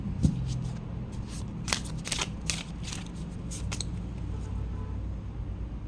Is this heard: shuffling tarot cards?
yes